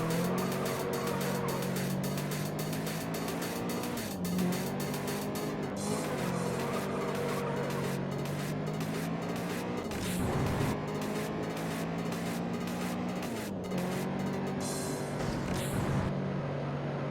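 Race car engine roaring steadily under nitrous boost in the racing game Juiced, a loud continuous drone with rising and falling pitch through gear shifts, plus occasional tire squeal.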